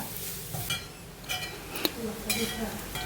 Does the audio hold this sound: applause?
no